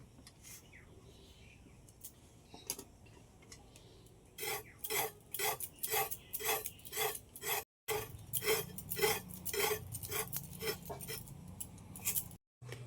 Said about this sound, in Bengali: এইগুলো এবার আমি কেটে এবার গ্রেট করে নেব